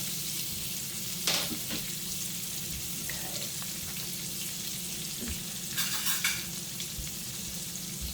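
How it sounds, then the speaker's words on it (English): Onions and peppers sizzle steadily in a pan, a continuous close frying hiss with a few brief stirring scrapes and clinks, and no talk. "I'm making onions and peppers"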